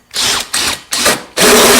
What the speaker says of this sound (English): we're going to drill 4 holes through this board and then 4 holes through that one